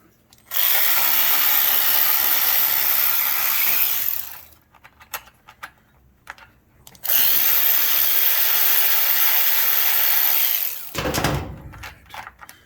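A right-angle power tool whirs in two long, loud bursts on a 10 millimeter bolt underneath a Generac RS8000E generator, with quieter clicks and metallic handling sounds between and after the runs.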